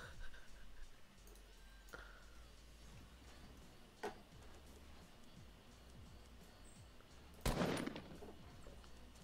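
Gunfire in Fortnite's Playground mode: faint scattered shots early on, then a sharp, loud burst of rapid fire near the end over a quiet, ticking game background.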